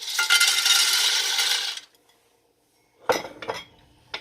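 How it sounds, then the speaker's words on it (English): Pasta shells are stirred in oil in a skillet, giving a dense rattling scrape of dry shells against the metal pan. After a short pause come a few sharp clinks from the spoon. "I'm going to continue to stir them around like this until they get real nice and toasty"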